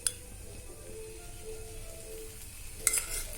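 Rava semolina dosa batter frying on a pan over medium heat with oil added, a soft continuous sizzle with a sharp clink at the start and a brighter spatter near the end.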